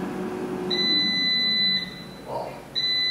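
An air fryer gives a couple of high electronic beeps over a low background hum, fairly close, as it finishes cooking potato wedges.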